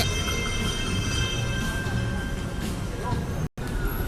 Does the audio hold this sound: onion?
no